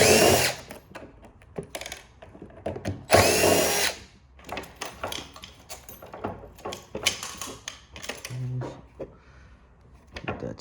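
A power drill whirs in short bursts, backing screws out of the parts of a large t-shirt printer being scrapped, with clicks and clatter of handled parts between the runs.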